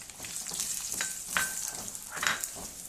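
Chana dal, urad dal and mustard seeds tempering in hot oil for a Telugu curry give a steady close sizzle, with a few sharper crackles and pops from the seeds as they fry.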